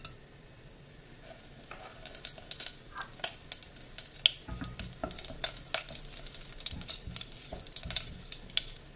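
Fennel seeds crackle in two tablespoons of hot coconut oil inside a pressure cooker, a quiet sizzle with sharp pops and spoon scrapes growing busier toward the end.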